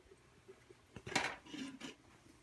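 A metal pot lid set ajar over simmering Filipino chicken afritada: a soft clink, then a brighter clattering scrape, quiet and close, with no talk.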